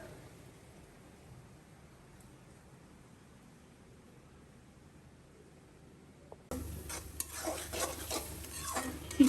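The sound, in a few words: small shrimp (chingri jhanka) cooking in a pan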